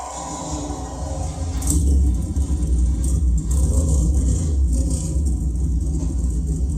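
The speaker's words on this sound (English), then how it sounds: "Gentlemen, start your engine!" NASCAR stock car engines firing up and rumbling together before the Coca-Cola 600 at Charlotte, a heavy low growl that swells after a brief lull and holds as a thick, continuous roar.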